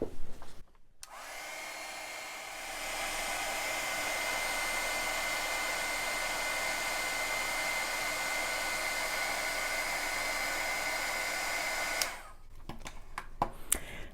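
A heat tool for melting embossing powder on paper blows with a steady, close hiss for about ten seconds after switching on, then cuts off, followed by a few faint clicks and handling noises.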